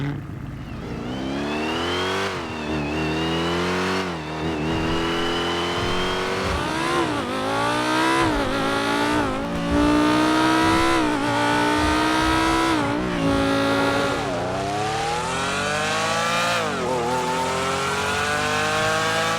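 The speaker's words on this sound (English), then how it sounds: "He's made some of the best vehicle sound mods out there" A modded car engine in the GTA 5 video game revs repeatedly through rising and falling pitch sweeps, loud and continuous, like a race car climbing through gears with no voices over it.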